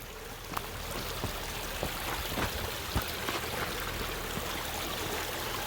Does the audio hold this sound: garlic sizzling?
no